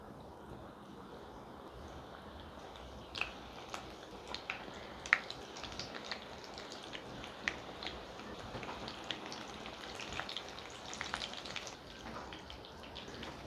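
Sweet corn pakoda frying in hot oil gives scattered sharp pops and crackles over a soft, steady sizzle. It is fairly quiet and close, with no talking.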